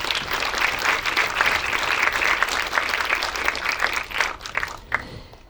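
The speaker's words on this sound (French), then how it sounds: "Sous vos applaudissements, s'il vous plaît." Audience applause welcomes guests onto a round-table panel about the water cycle: a dense, steady wash of many hands clapping that holds for several seconds, then thins and fades toward the end.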